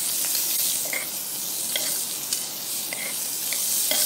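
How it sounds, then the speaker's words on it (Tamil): Chayote (chow chow) pieces fry lightly in oil while being stirred, producing a close, bright sizzle broken by repeated spatula scrapes and taps against the pan, with no speech. "இப்போ இந்த காயையும் நல்லா மிக்ஸ் பண்ணி விட்டுக்கலாம். எண்ணெயிலே லைட்டாக வறுத்துக்கலாம்."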